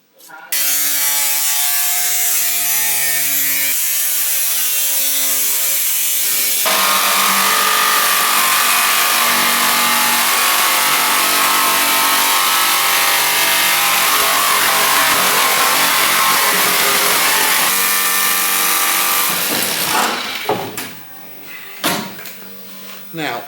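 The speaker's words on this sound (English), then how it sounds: "that was a lot easier than using the cutting disc, so I recommend using a jigsaw" A jigsaw cuts through the window capping of a Land Rover Defender with a loud, sustained buzzing rasp close by that changes pitch partway through, then stops, followed by a few clunks and handling noises.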